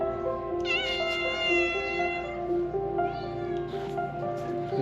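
A farm cat meows repeatedly and close by, drawn-out tonal cries over a steady low background hum, with no talking.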